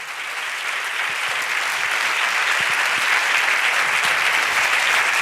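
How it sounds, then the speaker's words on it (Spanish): An audience at a professional technical meeting gives a long, dense burst of applause. The many hands blend into a steady, full roar that swells slightly as it goes on, with no one speaking over it. "un fortísimo aplauso para Yeray Durán"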